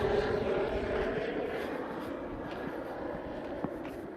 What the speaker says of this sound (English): I'm distracted by that plane.